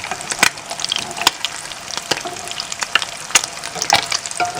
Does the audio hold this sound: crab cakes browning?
yes